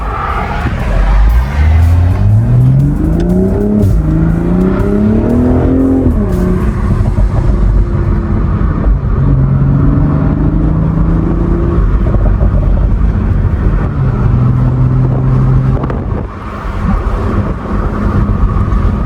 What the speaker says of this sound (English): Downshifts are nice and poppy.